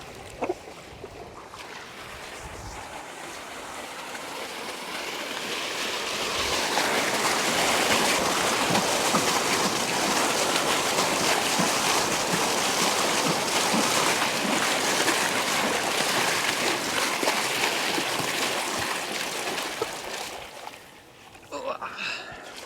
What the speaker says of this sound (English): I'm going to move the water over to this side of the property.